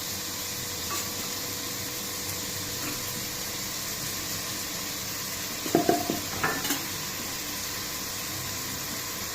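Onions frying for prawn biryani, with a faint, steady sizzle from the pan and a short burst of spoon-against-pan clatter as they are stirred.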